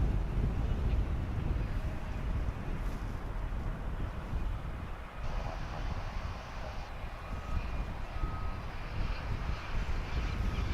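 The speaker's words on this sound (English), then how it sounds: "There is American Flight 520 on its way to Phoenix. It's an A321." An American Airlines Airbus A321 jet rumbles at DFW airport, a broad, steady roar somewhat distant and mixed with wind noise, holding level for the whole stretch with slight swells.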